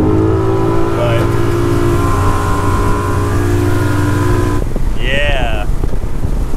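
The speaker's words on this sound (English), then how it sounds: "Feels good to have an engine that runs." Engine of an offshore fishing boat out after mahi near Islamorada, a steady droning hum running throughout under wind, with people talking over it.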